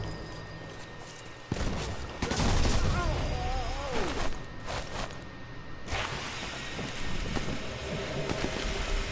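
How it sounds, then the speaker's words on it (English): An airstrike in Sniper Elite 4 brings sudden loud blasts and shattering crashes, then a lingering rumble of debris, with a voice speaking over part of it. "Sent in an airstrike."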